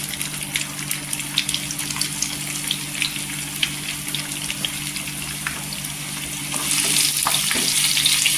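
Cumin seeds crackle in hot oil for a papaya vegetable dish, a dense close sizzle of rapid pops that swells louder and fuller toward the end as chopped onion goes in, with no voices.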